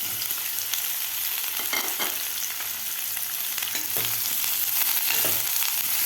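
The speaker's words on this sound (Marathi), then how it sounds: "या तेलामध्ये आपल्याला हे फणस फ्राय करून घ्यायचं आहे." Jackfruit pieces fry in a ladle of oil in a kadai, producing a continuous close crackling sizzle with occasional sharper pops and no voices.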